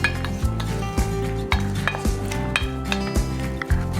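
A spoon mixing dill and thyme into turkey meatloaf mixture, rhythmic clinks and scrapes against the bowl at a steady pace under a low background hum, close with no talking.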